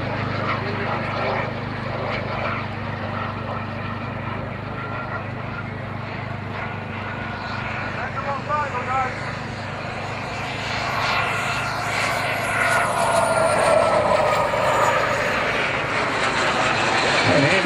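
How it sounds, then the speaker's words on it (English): A model F-4 Phantom jet passes by on approach to land at a Kentucky airshow, its turbine roar rising and swelling into a loud rushing whine before it fades, with a commentator talking underneath. "we'll be landing with the Phantom on the next pass"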